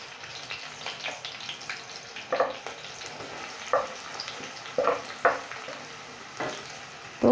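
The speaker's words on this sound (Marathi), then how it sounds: "चांगल्या फ्राय करून घ्यायच्या आहेत मिरच्या, म्हणजे त्याचं कसं त्याच्यानंतर आपण हा कांदा कापलेला आहे तो टाकायचा आहे।" Green chillies and chopped onion fry in a pan for a spicy cabbage and pea bhaji, giving a soft, continuous sizzle broken by a few sharp spatters and stirring clicks.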